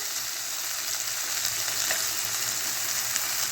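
Soaked peas fry in a hot pan for an amaranth leaf curry, giving a loud, continuous close-up sizzle with faint crackles and the occasional stir, and no talking.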